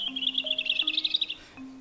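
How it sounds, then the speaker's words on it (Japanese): A European robin sings a quick, high, tinkling run of rapid trilled notes over about a second and a half, with faint tonal sounds beneath and no talk. "コマドリだっけ、ヨーロピアンコマドリ"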